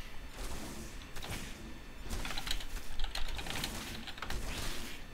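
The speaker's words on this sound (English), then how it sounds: "Typing while microing my zealot." Rapid, uneven clatter of a computer keyboard being typed on during a game, with clustered keystrokes at close range under faint background noise.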